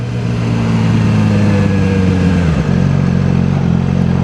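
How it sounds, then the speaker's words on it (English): A motorcycle running with no exhaust, a loud, close, rough engine drone with a steady throbbing idle that shifts pitch briefly partway through, no speech. "I hope you guys can hear me pretty well over this the sound of my bike now."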